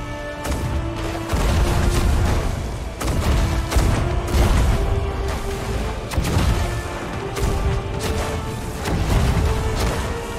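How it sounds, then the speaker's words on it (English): Repeated heavy ship cannon booms in the video game Sea of Thieves, several shots in irregular succession, over a droning tonal background with game-like effects. "Man the cannons, Mr. Cock."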